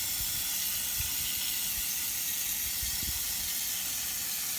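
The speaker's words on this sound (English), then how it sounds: "it sprays more like a mist" A hand-pumped oil sprayer mists oil onto breaded wild kale, producing a steady, even hiss that holds without a break, close by, with soft low knocks beneath it and no talking.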